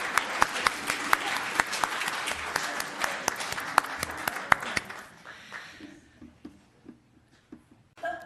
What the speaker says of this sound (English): applause all around for these joys